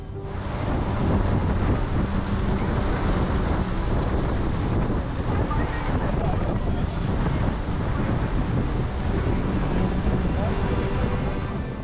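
Strong wind roars steadily over a lake in Periyar Tiger Reserve with rain, a loud, unbroken rush that never lets up.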